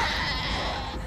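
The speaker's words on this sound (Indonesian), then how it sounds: "Rupanya Dena menyertakan seekor kambing yang dimana kambing itu akan dikorbankan" A goat brought for sacrifice lets out a single drawn-out wavering bleat, close and fairly loud, lasting about a second.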